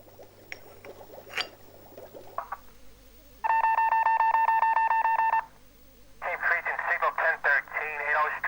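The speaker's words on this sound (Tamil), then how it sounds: "நீ போய் அன்வர் அங்கிளுக்கு ஃபோன் பண்ணி சொல்லு" A telephone number is dialed as a run of rapid, evenly spaced keypad tones lasting about two seconds, clear and close, with people talking before and after.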